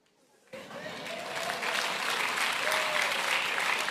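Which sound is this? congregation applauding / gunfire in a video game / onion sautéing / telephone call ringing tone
congregation applauding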